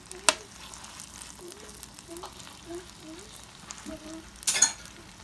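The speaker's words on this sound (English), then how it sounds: "And you just move it around, because shrimp doesn't take that long to cook." Marinated jerk shrimp sizzle quietly in a pan while being stirred and moved around, with soft scraping and a few brief clinks over a steady low frying hiss.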